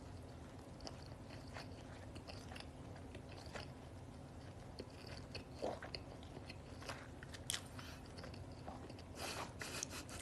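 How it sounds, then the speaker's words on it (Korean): Chicken breast being chewed close to the mic, with faint wet bites and soft crunchy mastication sounds repeating irregularly over a quiet background hum. "오빠 씹는 소리 너무 버거워요."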